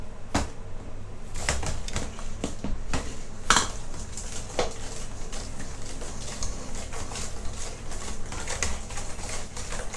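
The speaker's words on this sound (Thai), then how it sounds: "คนให้ทุกอย่างเข้ากันครับเ" Spoon clinking and scraping against a bowl while light soy sauce, green-cap seasoning sauce and marinade for crispy fried pork belly are stirred together, a steady run of close metallic taps and clatters with no talking.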